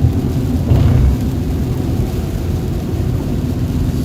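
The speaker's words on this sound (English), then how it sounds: "it's pretty heavy rain and frequent lightning as well" Heavy rain pours steadily during a storm in Dallas, Texas, while a low rumble of thunder rolls through near the start, then settles into a dense, constant wash.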